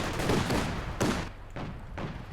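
Su-76 tank guns fire in a strategy game battle, three sharp blasts about half a second apart with short decaying tails, moderately loud and without talk.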